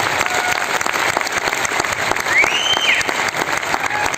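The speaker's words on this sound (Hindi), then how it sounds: "एक बार अपना के लिए जबरदस्त ताली होनी चाहिए सर" Enthusiastic audience applause at a stage event, a dense, steady wash of clapping throughout with a brief whistle partway through, no speech over it.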